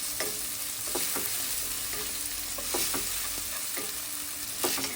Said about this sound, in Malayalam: ഇനി എല്ലാം ഒന്ന് വഴറ്റിയെടുക്കുക.